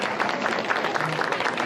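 Crowd at a wildlife rescue show in a shopping mall claps in a dense, lively burst of applause mixed with murmured crowd noise, fairly loud and close.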